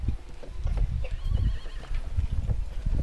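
A horse in the video game Pathfinder whinnies over rhythmic clip-clopping hooves, the neigh rising briefly in the middle while the steady hoofbeats continue at moderate volume throughout.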